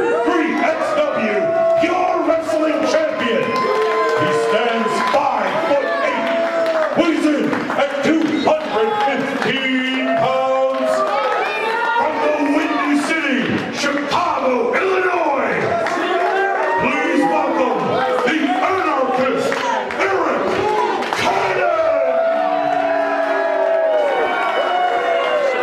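At a triple threat wrestling match, the crowd roars and cheers steadily throughout, with whoops and clapping under an announcer talking over the noise.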